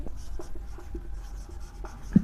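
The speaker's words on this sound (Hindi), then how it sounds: "चलिए अब लिखेंगे" Marker or chalk writing on a board during a class 12 physics lesson on ray optics, faint scattered strokes and taps, close and quiet with no talking.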